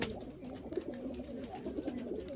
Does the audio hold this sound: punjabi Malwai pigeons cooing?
yes